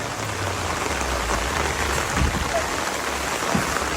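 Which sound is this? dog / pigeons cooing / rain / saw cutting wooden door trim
rain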